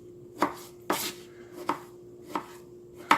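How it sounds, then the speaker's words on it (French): Tomatoes chopped with a knife on a board for salsa, five distinct, evenly spaced cuts about once every two-thirds of a second, close and clear with no talking. "Couper les tomates."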